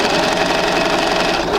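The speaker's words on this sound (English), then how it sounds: "We'll go ahead and sew that straight down." A sewing machine runs at a steady fast pace as it stitches straight down a fabric seam, a loud, close mechanical whir with no talking.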